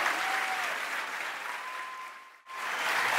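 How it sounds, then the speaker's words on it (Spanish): A congregation applauds during a lively Christian worship song, a dense, steady wash of clapping with music tones underneath that briefly drops out near the end before picking back up. "Dale ese aplauso al Señor"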